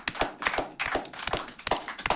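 An audience claps along, a loose run of sharp, fairly close hand claps in an uneven rhythm over about two seconds, with no voices over them.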